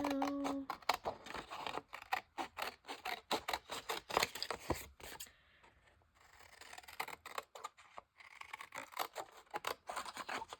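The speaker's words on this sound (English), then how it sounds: "And we're going to try to cut semi-straight across." Scissors snip repeatedly through paper for a Japanese-themed journal, giving close, quick crisp cuts in uneven bursts with short scraping rustles and a brief pause midway.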